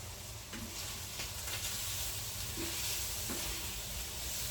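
Beef and pork mince sizzles in a pan, a continuous bright hiss with a few faint scrapes and taps of stirring, close and alone.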